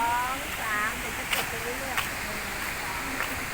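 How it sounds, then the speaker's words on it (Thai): A steady broadband wash of water from the Chet Sao Noi waterfall in Saraburi, Thailand, heard from the path leading down to it. Someone talks over the continuous rushing. "นี่คือทางลง ข้างล่างคือน้ำตก"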